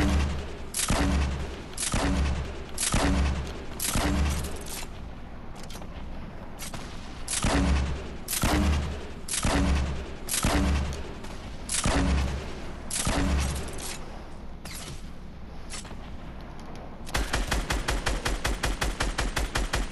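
Rapid gunfire bursts in a build-battle shooter video game, loud repeated volleys of shots in a steady rhythm for most of the stretch, ending in a fast continuous automatic stream; no talking.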